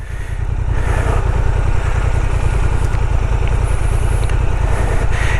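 A Honda Transalp 750 motorcycle engine runs steadily while riding off-road at speed, a loud continuous low rumble with a dense pulsing beat and constant wind-like noise, with no voices.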